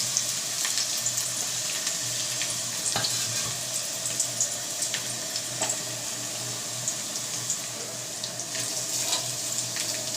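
Vegetables fry together in a pan for a vegetarian dish, a steady broadband sizzle with scattered pops and crackles and occasional stirring clinks, close and continuous with no talking.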